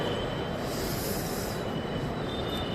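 A metro train at a station gives off a loud, continuous rumble and wheel roar with a faint metallic squeal, steady throughout and with no talk.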